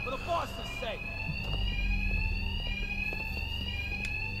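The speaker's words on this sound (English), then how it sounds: "these thugs can't hear a thing over the alarms" Bank alarms in Batman Arkham Knight ring loudly and continuously, a steady high electronic tone that persists throughout, with brief voices and low rumbling underneath at the start.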